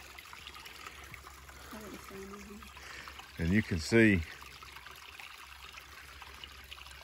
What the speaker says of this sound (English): all this is runoff, or natural runoff from the pond coming up